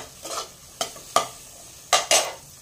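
Green peas are stir-fried over raised heat, heard as five short scraping, sizzling strokes of a spatula against the pan, close and distinct with quiet pauses between them.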